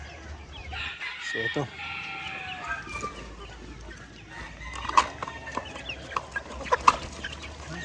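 Heritage chickens kept for meat cluck and squawk around a feeding spot on a farm, a busy flock close by with sharp calls toward the end, while someone talks over them.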